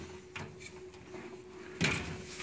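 A drawer slides open on a Harbor Freight tool cabinet, a faint rolling scrape followed by a louder metallic clunk as it reaches its stop, heard close in a quiet room with a steady background hum.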